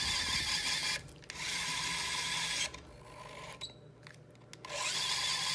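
An electric torque screwdriver drives a screw. It runs in short bursts of whirring motor noise with brief pauses and clicking between them, heard alone with no speech.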